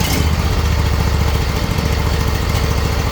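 A John Deere engine idles close by after an idle screw adjustment, giving a loud, even, continuous putter with no talking over it.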